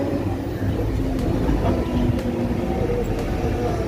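A train on the Sealdah South line rumbles steadily and loudly nearby, a continuous low roar with faint rattles throughout.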